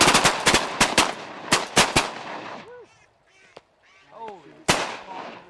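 Shotguns blasting on a duck and goose hunt, a quick volley of loud, close shots in the first two seconds and one more later, with duck quacks and goose honks calling in between.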